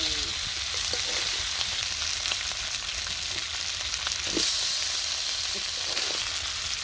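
Meat being fried and stirred in a pan in a home kitchen, a continuous hissing sizzle with occasional scraping stir sounds and small pops, close and steady without speech.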